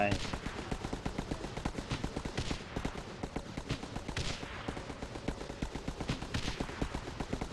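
Rapid, continuous bursts of gunfire in the mobile strategy game Guns UP!! Mobile, defending against a zombie attack, crackle loudly and steadily throughout, overlapping like automatic weapons firing without pause.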